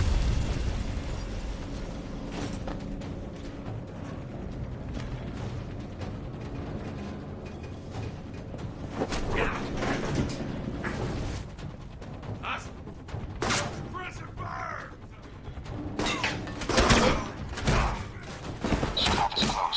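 Automated turrets firing in the spy video game Alpha Protocol, with bursts of gunfire and explosive pops that grow denser and louder in the second half over a dense backdrop of game sound, with someone talking at times.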